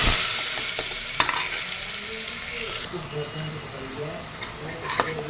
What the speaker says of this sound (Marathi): मसाला चांगला भाजून घेते